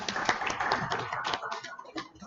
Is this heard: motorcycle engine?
no